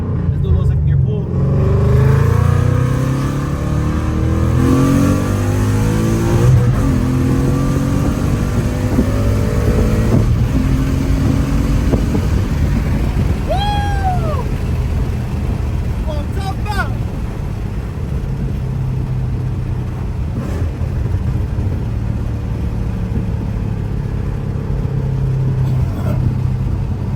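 A loud Ford Mustang GT with a very loud setup pulls hard through second gear, its deep exhaust rumble roaring steadily and close throughout, with a voice briefly heard over it.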